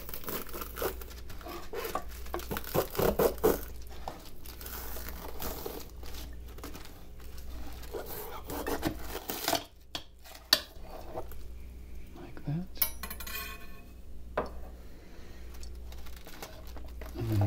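A knife cutting a vegetable into halves and quarters for kimchi, with close crisp crunching, rustling and tapping on a surface, and a few clinks of kitchenware.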